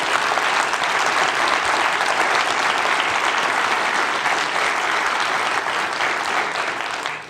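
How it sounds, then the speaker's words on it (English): Dense, steady audience applause fills the room at a cleantech innovation awards ceremony, sustained and close for about seven seconds before tapering slightly at the end, with no talking over it. "Can you join me in giving them all another round of applause?"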